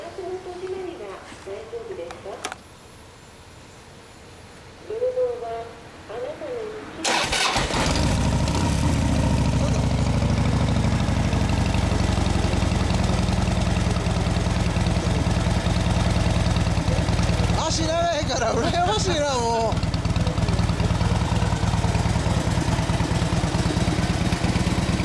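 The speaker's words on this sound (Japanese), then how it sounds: "エンジン音聞かせてもらえますか。" A 2009 Harley-Davidson Fat Bob (FXDF) with a Screamin' Eagle exhaust, brief quiet talk before the engine fires up at about seven seconds into a loud, steady, close idle that holds to the end, with faint voices now and then.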